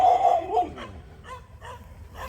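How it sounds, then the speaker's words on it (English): A dog gives a whiny, yelping bark followed by a few softer yips, moderately close, with no talking. "Sorry about the doggy barking."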